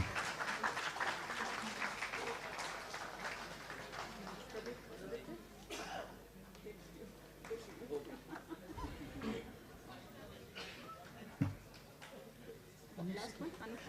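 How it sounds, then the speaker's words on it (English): Audience applause in an auditorium at an R&D conclave and Women in STEM event, a broad wash of clapping that fades after a few seconds into scattered claps, coughs, throat clearing and quiet chatter. "So you all can give a huge round of applause."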